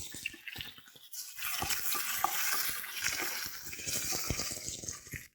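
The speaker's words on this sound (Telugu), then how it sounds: "ఈ అల్లం వెల్లుల్లి పేస్ట్ పచ్చివాసన పోయేంత వరకు ఫ్రై చేసుకోవాలి" Ginger garlic paste frying in a pan while peas pulao is cooked, with a steady crackling sizzle and occasional stirring scrapes, loud and close, with no voices.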